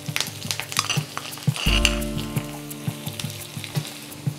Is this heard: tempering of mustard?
yes